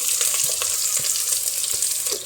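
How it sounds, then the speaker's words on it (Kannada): Two medium onions sizzle in hot oil right after mustard seeds are tempered, a loud, steady, close frying hiss with small crackles throughout and no talking. "ಮೀಡಿಯಮ್ ಗಾತ್ರದ 2 ಈರುಳ್ಳಿ ಸ್ವಲ್ಪ ಫ್ರೈ ಮಾಡಿ ಇದನ್ನು"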